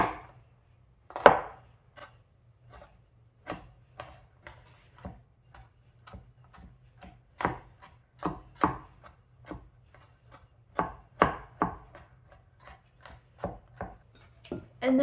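A knife slicing through garlic cloves on a cutting board, a long series of crisp, close, irregularly spaced chops over a faint low hum, with no talking.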